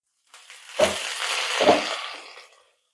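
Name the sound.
spinach greens frying in a pan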